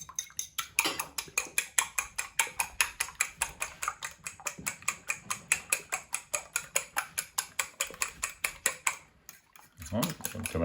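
Two eggs whisked briskly in a bowl, a fast steady run of close clinking strokes that keeps up for several seconds before a short pause and a muffled rustle.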